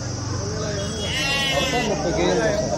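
Rams bleating at a busy village livestock market sold ahead of Bakrid, loud close bleats rising over a crowd, with people talking and bargaining throughout.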